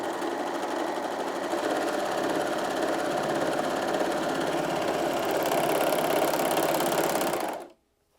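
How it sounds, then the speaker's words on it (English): A Janome AirThread 2000D overlocker runs a 2-thread overlock stitch in one steady, continuous mechanical whir that stays loud and even for about seven seconds before cutting off abruptly. There is no talking. "let me just show you now this lovely delicate 2-thread overlocking"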